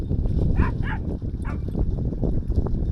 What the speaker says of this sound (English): Bloody dogs causing issues with the buffaloes over there.